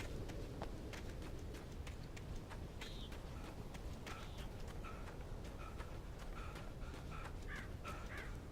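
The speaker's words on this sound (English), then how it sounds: "Birds." Crows in the video game Alan Wake caw repeatedly from a distance, faint and scattered over a steady wash of outdoor ambience.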